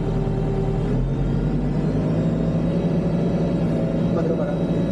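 A backhoe's diesel engine, set in excavator mode, runs close and loud with a steady, heavy rumbling drone that holds nearly level for several seconds.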